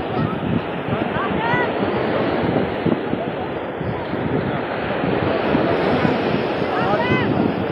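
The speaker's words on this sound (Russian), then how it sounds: "Море сегодня такое беспокойное." Restless sea waves at a beach in Mersin, Turkey, wash in a steady broadband roar, constant and fairly loud, with wind rushing across the microphone and faint voices underneath.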